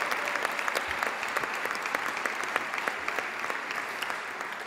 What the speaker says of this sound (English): So give yourself a nice round of applause.